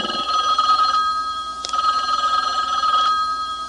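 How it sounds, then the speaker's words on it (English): Early 1970s Vermont telephone bell rings loudly in a coded pattern, giving several clear bursts of ringing separated by short pauses, with no voices. "you can have 10 distinct bells that don't ring for anybody else's calls"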